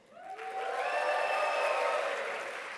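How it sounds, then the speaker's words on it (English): A conference audience breaks into cheering and applause for a speaker, swelling quickly to a steady roar of clapping and voices that holds for a couple of seconds before easing slightly. "Give him another cheer"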